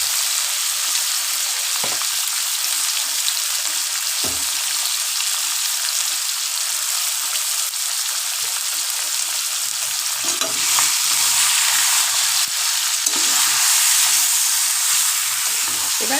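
Marinated chicken fries and is stirred in a pan for chicken kosha, a steady loud sizzle running throughout with occasional scrapes of the spoon against the pan.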